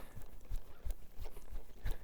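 A horse walks in an arena, its hooves clip-clopping in a steady, even rhythm at moderate distance, fairly quiet and alone.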